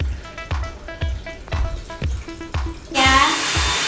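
A hair dryer blows steadily as hair is dried completely during a smoothing treatment in a salon, its loud whooshing airflow rising sharply near the end, broken by repeated soft thumps and brushing sounds.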